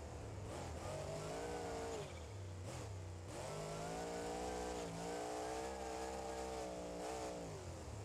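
Engine of a BeamNG.Drive game vehicle fitted with both a supercharger and a turbocharger, revving loudly and continuously with rising and falling pitch, and brief dips between pulls.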